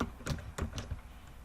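Keyboard typing while composing a Facebook post, a few quiet, separate key taps in a short burst over low room noise, with no voices.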